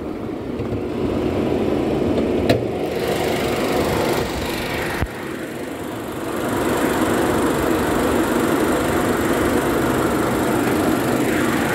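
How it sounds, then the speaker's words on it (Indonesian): A 2014 Ford Fiesta 1.0 EcoBoost three-cylinder engine running steadily at idle, a continuous buzzing drone close by with a brief click partway through. "Ini mesin hanya 3 silinder 1000 cc"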